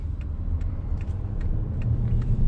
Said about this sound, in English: When you get into rev range, it really sounds like a V8 engine.